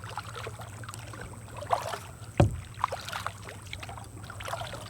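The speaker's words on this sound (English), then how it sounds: "We're paddling back out and we're paddling up on a boat." A kayak being paddled out on open water, with soft, irregular water swishes and drips from the strokes, one sharper splash or knock in the middle, and a low steady rumble underneath.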